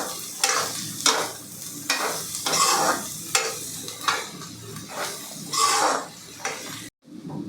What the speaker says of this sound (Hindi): इसको हम बारीक काट के लिए हैं, इसको भी हम चलाते हुए भून लेंगे।